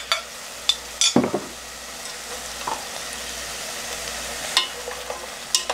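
Bean sprouts stir-frying in sesame oil in a pot for soup, with a soft continuous sizzle and intermittent clacks and scrapes of stirring utensils against the pan.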